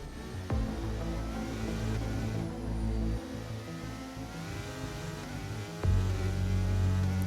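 A racing car engine drones steadily in a racing video game, rising and falling slightly with revs and running loud and continuous for the whole stretch, with no talking.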